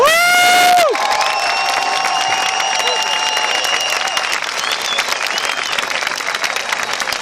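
A debate audience bursts into loud, sustained applause with cheering and whoops, a thick wall of clapping that carries on steadily after a brief opening tone.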